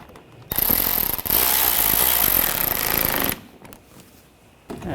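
A power tool tightens screws on a Buick Encore headlight in one loud, close rattling burst of about three seconds, followed by quieter handling sounds.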